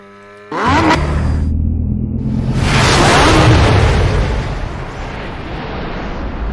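A Volkswagen Passat B8.5 R-Line in the racing game Assetto Corsa revs hard with a loud booming exhaust roar, then settles into a rumbling, crackling idle with small pops, close and without talk.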